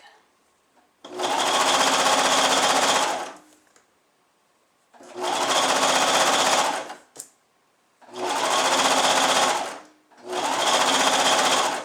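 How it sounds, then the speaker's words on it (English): A sewing machine runs in four sustained bursts, each about two to three seconds, stitching a swimsuit hem over a turned seam allowance, with short quiet pauses between runs; close and steady, no talking over the motor. "carefully walk over that hem again"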